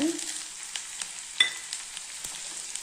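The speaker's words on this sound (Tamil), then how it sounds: "வெந்தயம் நல்லா எண்ணெயிலே நல்லா கொஞ்சம் நேரம் வதக்கி கொடுக்கலாங்க" Fenugreek seeds fry in hot oil for a Tamil fenugreek gravy, with small onions already in the pan; a steady, close crackling sizzle runs throughout, broken by a few sharp clicks from stirring.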